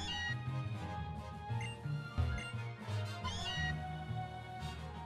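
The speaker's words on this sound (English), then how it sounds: "This place is it's overrun by Meowth." Meowth crying in Pokémon Moon: several short, tonal cat-like meows in a place overrun by Meowth, over steady game music, fairly quiet.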